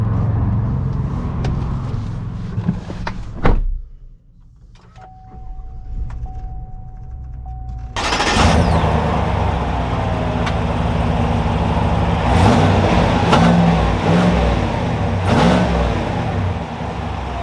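A 2020 Chevy 1500 Trail Boss pickup with a 6.2L V8 cranks and fires up, then its deep engine rumble holds steady and rises as the truck pulls away and drives, loud and close throughout.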